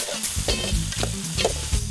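Shrimp sautéing in hot oil with garlic, celery and onion stock, a close, busy sizzle with crackling pops and stirring scrapes throughout, no voices.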